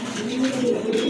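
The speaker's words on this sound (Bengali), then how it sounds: "খুবই সুন্দর একটা নর কবুতর, শার্টিনের নর কবুতর" A male Satin pigeon with feathered feet coos close by, a low rolling throaty burble sustained through the whole moment, loud and clear.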